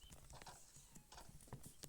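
A horse in a survival video game clip-clops with quick, uneven hoof clatters and soft thuds, fairly faint and close, with no speech.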